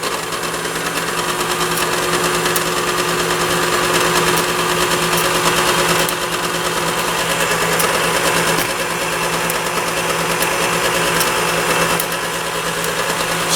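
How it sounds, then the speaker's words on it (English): A stand mixer whirs steadily with tart dough in the bowl, a continuous close motor drone at even loudness throughout, with faint rhythmic knocking from the beater and no talking. "This goes on the mixer."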